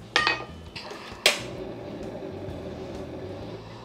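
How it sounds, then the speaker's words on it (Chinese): A metal pot lid lifted off a pot of clams cooking with white wine, giving two sharp clanks close by, then a low steady simmering hiss. "咁我哋就開鍋"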